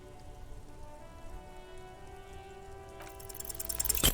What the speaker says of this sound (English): Stuck in the rain in a traffic jam, man.